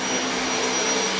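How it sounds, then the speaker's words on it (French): A household vacuum cleaner runs steadily indoors, a continuous broadband whoosh with a faint high whine, loud and close with no speech over it. "Tu sais qui fait l'aspiration là?"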